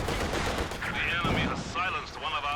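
Rapid machine gun bursts and other gunfire crackle through a Company of Heroes 2 online 2v2 battle, dense and continuous, with a voice talking over the fighting.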